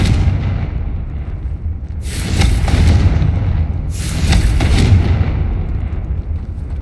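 A Confringo blasting spell in Hogwarts Legacy goes off as two loud fiery explosions about two seconds apart, each a crackling burst with a deep rumbling tail over a steady low game drone.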